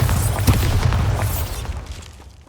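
A Bombarda spell explodes in Hogwarts Legacy with one heavy, booming blast and a crackling burst that fades out over about two seconds.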